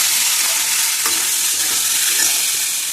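Spices with turmeric sizzle loudly in a hot pan while being stirred, ahead of jute greens going in, giving a dense, even hiss with faint scraping throughout and no voices.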